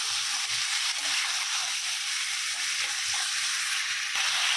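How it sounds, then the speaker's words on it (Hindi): Salted chicken frying in a pan for a spicy Maharashtrian kombdi rassa, a loud, constant close hiss and sizzle with no break, and a faint tap near the end. "अब कुछ देर इसे अच्छा से फ्राई करना है।"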